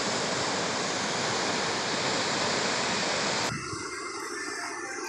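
Rio Bonito waterfall near Villa La Angostura, Neuquén, Argentina, roaring as a loud, steady rush of falling water that drops abruptly to a softer, more distant wash near the end.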